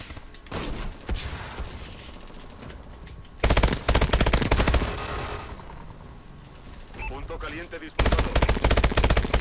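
Rapid automatic gunfire bursts from Call of Duty Advanced Warfare, a video game: two loud, dense volleys separated by quieter in-game action, with a voice talking intermittently.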